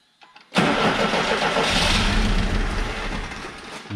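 A GAZelle van engine cranks for a brief moment, then catches and roars to life, settling into a loud, steady running idle close to the listener.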